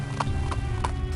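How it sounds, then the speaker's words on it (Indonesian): Horse hooves clip-clop at night at the old Tugu Lonceng bell monument, three distinct hoof strikes landing at an even pace over a low background hum. "Suara derap langkah kaki kuda seringkali melintas pada malam-malam tertentu."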